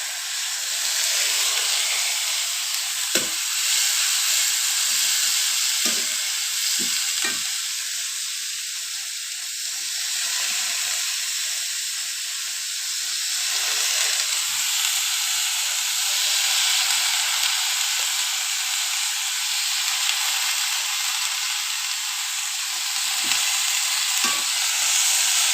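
Green beans stir-fried in a pan on a gas stove in a village home kitchen, a steady broad sizzle and hiss running throughout with occasional soft stirring scrapes and taps, moderately close, no talking.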